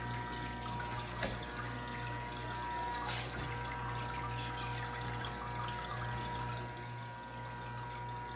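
Water trickles and drips steadily inside a commercial ice machine during servicing, a continuous close wash of running water with a faint mechanical hum beneath it.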